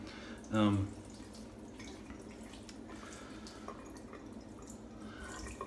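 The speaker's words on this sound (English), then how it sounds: "So I'm gonna rinse this off a little more." A razor fitted with a Feather Pro blade is rinsed under a running tap: a steady, even wash of water hiss throughout, broken by one short, louder knock of the razor near the start.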